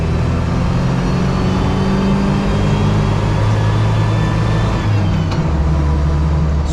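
A 1984 British Army Land Rover Series 3 FFR drives along with a loud, steady engine drone and low rumble throughout, the pitch shifting slightly as it pulls, with no talking.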